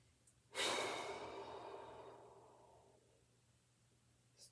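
A single deep, drawn-out breath during a core exercise for low back pain, close and fairly soft, starting sharply and fading slowly over a few seconds.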